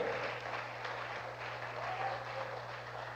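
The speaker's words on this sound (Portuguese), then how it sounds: "para Ele a nossa salva de palmas" Church congregation applauding in praise during a Portuguese sermon, a steady dense wash of clapping held at an even level throughout with a low hum underneath.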